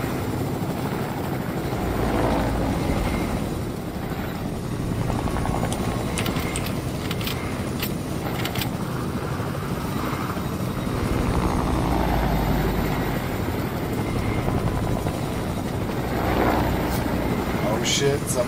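A helicopter flown in a shooting video game gives off a continuous whirring rotor and engine drone for the whole stretch. It stays steady and close, with people talking over it.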